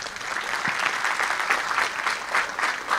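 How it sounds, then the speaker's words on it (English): Applause for a keynote speaker, the chief executive of Belize Social Security, at a formal debate event; steady crowd clapping throughout, moderately loud with no talk over it. "A round of applause."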